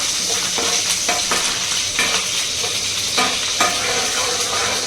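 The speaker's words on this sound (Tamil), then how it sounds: "ஏதோ டப்பு டப்புன்னு பொரியுது" Food frying on a gas stove, popping and spitting over a continuous close sizzle, with irregular sharp pops and stirring scrapes throughout and no speech.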